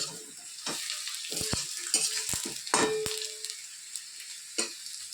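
Spices frying and being sautéed in a pan for Bengali khichuri, with bursts of sizzling and scattered clinks and scrapes of stirring across the stretch, no talking.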